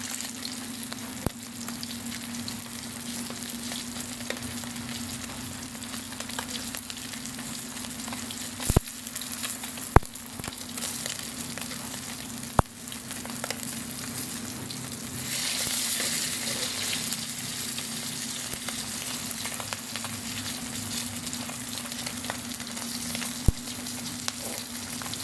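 Fish frying for a Filipino breakfast dish, pritong isda, a constant crackling sizzle in oil with a low steady hum, occasional sharp ticks and pops, close and unbroken for the whole stretch.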